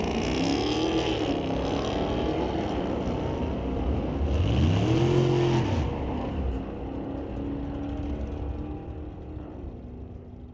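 A Mustang and a Dodge launch at a street-legal drag strip, their engines roaring and rising in pitch as they accelerate away, one car sweeping up loudly mid-run before the noise fades into the distance.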